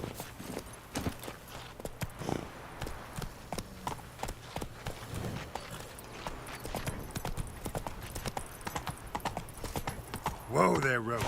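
Hooves of the horse Roach in The Witcher 3 clip-clop at a steady walking rhythm on uneven ground, close and continuous, with someone talking over them and a brief whinny near the end.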